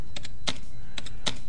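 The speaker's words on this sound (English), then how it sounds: "I'm using the tab keys" Keys tapped on a computer keyboard while the tab key is pressed to move through items in FreeMind mind-mapping software: four distinct close clicks in two quick pairs, crisp and alone in a quiet room.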